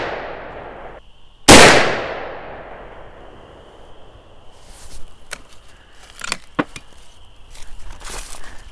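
A single loud 450 Bushmaster rifle shot fired with handloaded ammunition cracks sharply and decays quickly outdoors, followed by faint clinks and handling noises.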